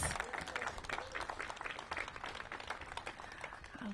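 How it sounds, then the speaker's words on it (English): A crowd applauds steadily at a mayoral press event, dense clapping filling the whole stretch at a fairly constant level, with a few voices faintly mixed in. "Let's give Patricio a big round of applause."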